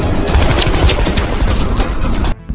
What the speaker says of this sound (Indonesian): mobil Frank sempat dihujani tembakan beruntun dari Maria